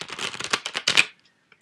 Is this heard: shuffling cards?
yes